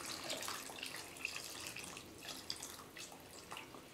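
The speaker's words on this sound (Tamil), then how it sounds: "இப்போ இந்த டைமில் வந்து நம்ம தேங்காய் பால் ஆட் பண்ணலாம்." Coconut milk poured into a simmering Kerala fish curry makes a faint, soft trickle of liquid with a few gentle splashes and drips, and no voices are heard.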